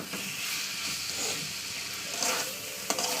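Spices sizzle steadily in hot oil while being stir-fried for a fish curry with taro and potato, with a soft continuous hiss and occasional stirring scrapes and a sharp clink near the end.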